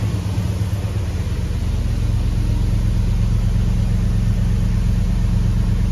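A Hemi V8 swapped into a Grand Wagoneer runs steadily, a close and loud low rumble holding an even idle throughout with no voices.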